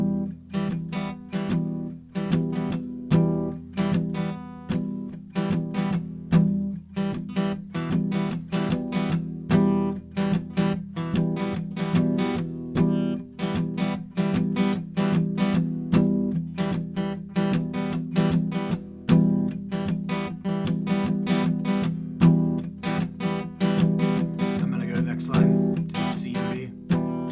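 Acoustic guitar strummed in a steady, loping swing rhythm, chords ringing continuously and fairly close, with no voice over it.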